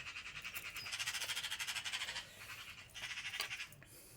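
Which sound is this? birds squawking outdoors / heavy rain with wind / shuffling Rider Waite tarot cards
birds squawking outdoors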